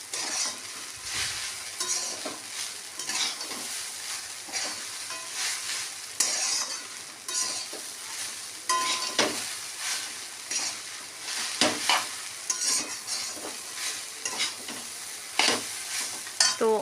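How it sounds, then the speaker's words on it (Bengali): Peanuts and curry leaves fry in a pan for chowmein, a steady sizzle under repeated scraping stirs and occasional sharp clinks of the spoon against the metal, close and fairly loud throughout. "কারি পাতা দিয়ে বাদামটাও দিয়ে দিয়েছি, দিয়ে এটাকে ভালো করে একটু নেড়ে চেড়ে নিচ্ছি"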